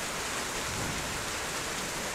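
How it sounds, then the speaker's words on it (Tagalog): Hail falling hard during a storm in Brisbane, Australia, a dense steady roar of pelting ice across the whole moment, loud and continuous like heavy rain drumming on surfaces, with no voices. "first time namin inulan ng hail dito na ganyang kalakas"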